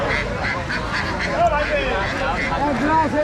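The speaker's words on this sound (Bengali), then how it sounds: "হাঁস বাজার চলতেছে বন্ধুরা দেখতে পাচ্ছেন" Ducks quack repeatedly at a busy outdoor duck market, their calls mixed into steady crowd chatter and market bustle close by.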